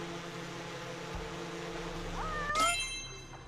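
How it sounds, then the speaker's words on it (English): A cat in the video game Judgment gives a short, clear meow over a low mechanical hum, with a faint metallic chime just before it. "That's no pigeon, that's a cat."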